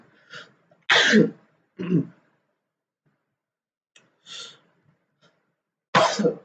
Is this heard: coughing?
yes